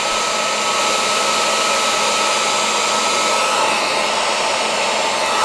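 Heat gun blowing during a Model A LED headlight install: a loud, constant, close whooshing roar of hot air running unbroken and steady, with no speech over it.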